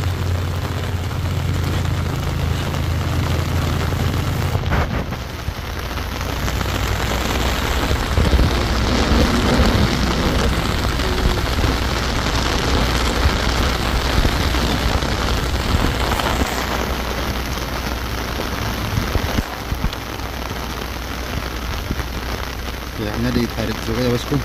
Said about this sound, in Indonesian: Hujan semakin deras di Batu Jombang ini bosku.